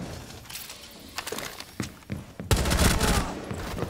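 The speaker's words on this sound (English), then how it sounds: "He was shooting at you." Gunfire in Rainbow Six Siege, with a few sharp shots followed by a loud rapid burst of automatic fire at the end, heard close and in the game's ambience.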